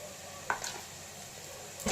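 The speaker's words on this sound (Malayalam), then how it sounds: "ഇനി ഇതൊന്ന് നന്നായിട്ടൊരു കളർ ചേഞ്ച് വന്ന വരെ ഒന്ന് വഴറ്റിയെടുക്കാം" Grated coconut and jackfruit being sautéed in a pan: a soft, steady sizzle with a few faint scrapes and stirring taps, quiet and close.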